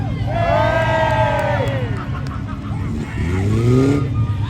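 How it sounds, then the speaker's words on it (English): Crowd at a banger racing raceway cheering loudly in two big swells, with a pause between, heard against a background rumble of engines at the track. "I want to hear a cheer"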